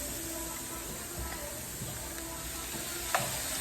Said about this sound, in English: We're gonna go ahead and add our tomatoes to this.